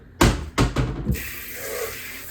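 A kitchen tap running water while food is washed, with a few quick splashy bursts followed by a steady gentle stream, close and fairly quiet.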